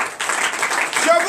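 A church congregation applauds during a French-language night service of deliverance, a dense, loud burst of clapping that fills the whole short moment with no break.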